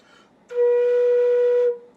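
A woodwind sounds one steady sustained note with a test fingering for A, starting cleanly after a brief quiet gap and holding about a second before stopping, close and fairly loud.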